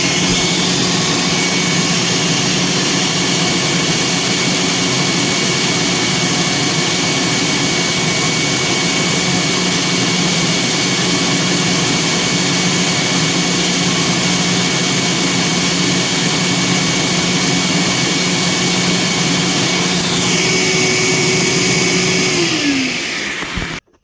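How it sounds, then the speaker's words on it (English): A Durrmaid 1600 spotter's vacuum and pump make a loud, steady mechanical whine and roar, running continuously, then winding down and cutting off at the end. "So let's turn on the vacuum and the pump."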